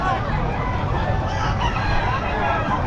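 An Albany gamefowl rooster crows during a heavy rainstorm, the crow partly masked by the dense, steady roar of rain at a market.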